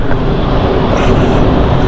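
Steady broadband roar of an aircraft on approach to London City Airport, likely the incoming Florence flight, loud and continuous throughout with no break and no talk over it.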